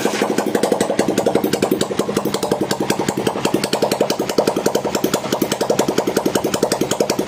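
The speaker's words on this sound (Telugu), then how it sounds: "ఒకసారి మీరు ఇంజిన్ బీటింగ్ అని చెక్ చేయండి" A motorcycle engine runs at a steady idle in a workshop after an engine rebuild, its rapid even beat thumping continuously and close with no talk over it.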